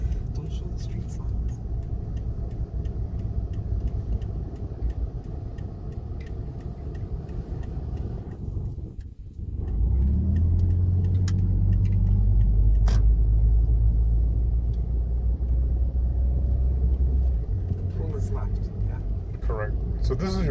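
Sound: car driving

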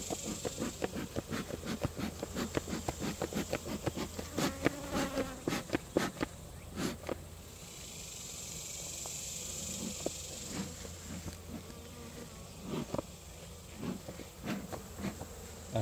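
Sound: bees buzzing around head

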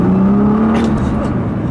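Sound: 2014 Nissan GT-R accelerating and downshifting in R mode

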